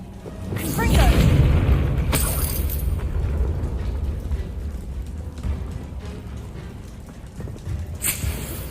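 A Confringo blasting spell explodes in Hogwarts Legacy with one loud, deep boom, followed by a long rumbling tail that fades over several seconds, with a brief crackle near the end.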